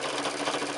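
A sewing machine stitches binding onto a quilted oven glove, a steady fast mechanical whir running continuously and close up with no pauses.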